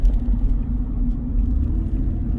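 Slow road traffic held up near construction cones, a steady low rumble of car engines idling and creeping along, continuous and fairly loud with no talk.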